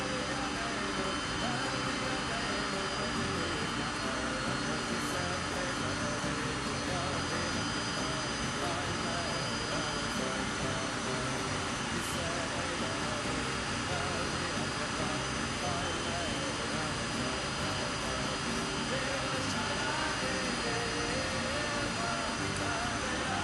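A jet airliner's engines keep running after landing on an early-morning arrival flight, giving a steady, loud broadband roar with a high whine throughout, and people talking faintly beneath it.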